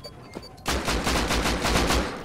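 A dense burst of rapid gunfire in the game Rust erupts during an assault on a large house after a short quiet lead-in, and keeps going loud and continuous, with crisp repeated shots like automatic weapons.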